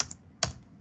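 A couple of quick keystrokes on a computer keyboard, entering a debugger command, sound as two sharp, close clicks with a short gap between them.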